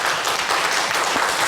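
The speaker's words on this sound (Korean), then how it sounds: "축하의 박수 해주시기 바랍니다" A church congregation applauds during a Sunday worship service, dense, close clapping that holds at a steady loud level across the short stretch, with no speech over it.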